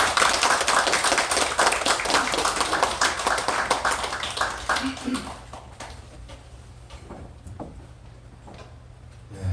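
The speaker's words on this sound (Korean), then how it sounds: "큰 박수를 보내주시면 좋겠습니다." Audience at a Korean community gathering in Gwanak claps to welcome a guest to the podium: dense, steady applause for about five seconds that thins into scattered claps and fades, with a voice faintly underneath.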